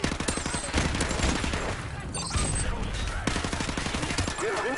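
Dense, rapid automatic gunfire from Call of Duty Modern Warfare Remastered, with AK and Skorpion weapons in play, rattles continuously in close overlapping bursts while a voice speaks faintly underneath.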